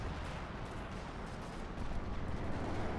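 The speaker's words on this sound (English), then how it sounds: "Artillery called in, I think, to sort of try and sort of prevent the assault from going any further" Artillery barrage in the real-time strategy game Company of Heroes 2: a dense, continuous rumble of overlapping blasts and booms, steady and fairly loud throughout with no pauses, no talking.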